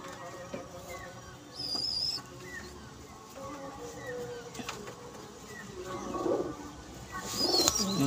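Pigeons kept at a home loft for sale, with soft coos and scattered bird calls close by, rising in two brief bursts near the end, over a faint background murmur of voices.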